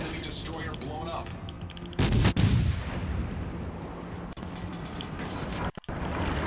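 An enemy destroyer blows up in World of Warships Legends, a sudden heavy blast followed by booming gunfire and rumbling over game noise, with a voice talking intermittently.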